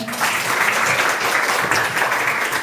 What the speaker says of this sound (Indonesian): Kita kasih tepuk tangan untuk Jonathan